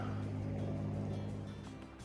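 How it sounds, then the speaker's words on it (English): Steady broadband rush of river rapids beside a hiking trail in a nature preserve, a continuous low rolling roar heard from a short distance with no voices. "You can hear the rapids rolling in the background."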